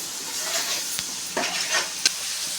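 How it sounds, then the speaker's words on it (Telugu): A paste of cumin, green chili, garlic and coriander fries in a pan for a rice dish, hissing and sizzling up close while a spoon stirs with a few scrapes and one sharp clink. "ఇది కూడా వేసుకొని బాగా కలుపుకోవాలి ఇది పచ్చివాసన పోయేంత వరకు వేగనివ్వాలి"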